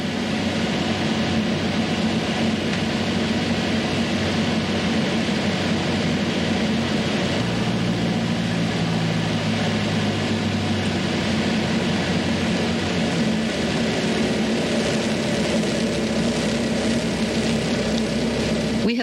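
A light aircraft lands near Modesto, its propeller engine droning steadily and loud inside the cabin, the pitch shifting slightly as power changes, with no voices.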